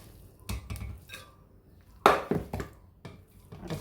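Pots and utensils clatter close by in a kitchen as a pressure cooker is filled and shut, a series of sharp metallic knocks and clinks spaced irregularly, with one louder clank near the middle.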